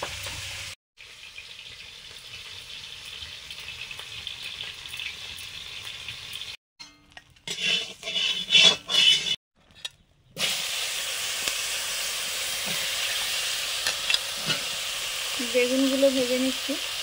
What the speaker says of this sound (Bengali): বেগুনগুলো ভেজে নিচ্ছি।